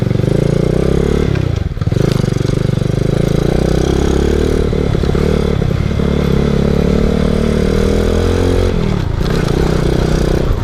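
A small Boom Vader motorcycle, a Grom-style clone, rides past loud and close, its engine droning steadily with a few quick dips and revs and wind rush throughout.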